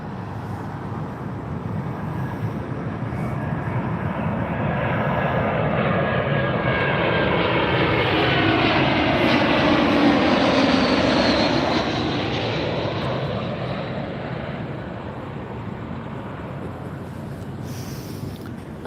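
An airliner, Flight 4248 arriving from Reno, passes overhead on approach to Las Vegas airport, a steady jet roar that swells to a loud peak and gradually recedes, alone without talk.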